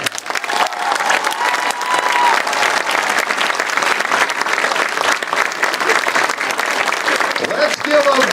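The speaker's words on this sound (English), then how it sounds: "Let's give a big round of applause for all three of your 2024 Husky Athletic Hall of Fame inductees." Stadium crowd at a high school football game applauding three 2024 Husky Athletic Hall of Fame inductees, a steady loud wash of clapping with some cheering that fills the whole stretch without letup.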